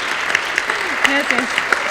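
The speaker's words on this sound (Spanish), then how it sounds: "mandémosle a los papás un gran aplauso" Short burst of applause from the audience at a book presentation at the Guadalajara book fair, clapping at moderate level with voices talking over it.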